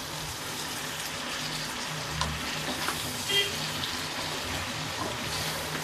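Vegetables with red amaranth stems, pumpkin and turmeric sizzle in a pan while being stirred, a steady moderate frying hiss with a few soft scrapes and knocks and no voices.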